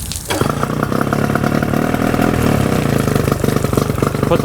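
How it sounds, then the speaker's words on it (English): A 1999 Johnson 25hp two-stroke short-shaft tiller outboard motor fires up after a brief pull and runs on at a loud, steady, buzzing idle close by. "Here I'm going to start the motor up."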